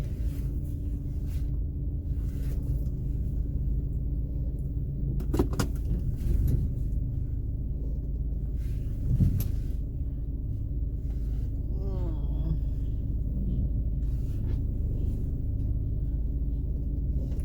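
A car engine rumbles low and steady while the car is parked at a Walmart, with faint clicks and thumps from inside the cabin breaking into the continuous drone.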